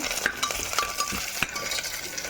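Crushed garlic sizzling with onions in a hot pan, a continuous bright frying hiss broken by sharp clicks of a spoon stirring against the metal, fairly close and without talk.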